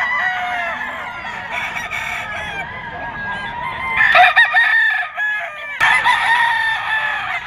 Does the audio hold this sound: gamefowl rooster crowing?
yes